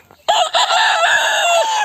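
A Leghorn rooster lets out one loud, close crow lasting nearly two seconds, sounding alone over a quiet farmyard.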